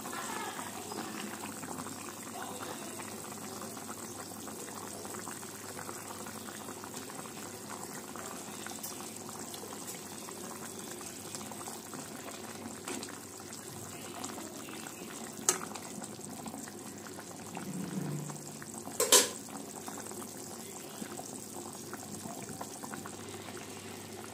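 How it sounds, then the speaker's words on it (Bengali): Fish curry gravy with fried fish added bubbles at a steady boil in a pot, a low, continuous simmering burble with a couple of brief clinks near the end and no talking. "মাছটা দিয়ে ঝোলটা আরেকটু ফুটতে দেব"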